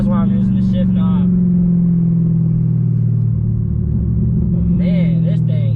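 Dodge Charger SRT Hellcat at speed, a loud steady low engine drone and road rumble heard from inside the cabin, with a voice speaking briefly over it at the start and near the end.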